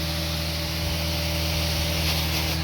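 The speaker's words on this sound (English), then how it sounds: "hit all of the stains with Unchained out of my Hydroforce sprayer" A Hydroforce sprayer hisses steadily as it mists Unchained cleaner onto pet urine stains in carpet, a loud, continuous spray with no pauses and no voices.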